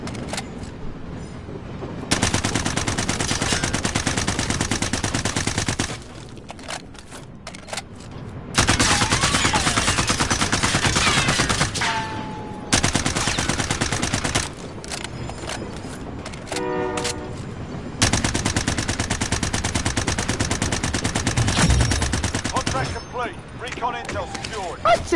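C-58 rifle fire in a video game, with long sustained automatic bursts separated by short quieter gaps, loud and close, with game ambience and brief electronic tones between bursts.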